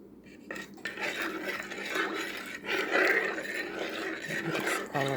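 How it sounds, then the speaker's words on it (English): Bread dough ingredients with olive oil being stirred in a bowl, giving close, continuous scraping and clinking of utensil against dish with a few sharper knocks. "Mix all of this together."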